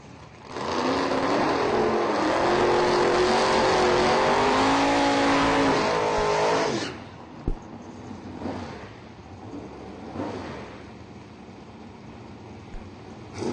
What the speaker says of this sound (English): Your left lane, Scotty Richardson, 69 Camaro, dials in at a 575 on the left side.